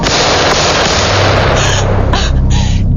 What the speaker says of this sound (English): There's been gunfire shot in the air